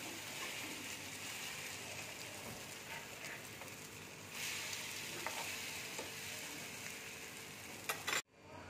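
Egg-dipped bread sizzles steadily in butter in a hot frying pan, a soft crackling hiss with occasional scraping and stirring, ending in a brief clatter.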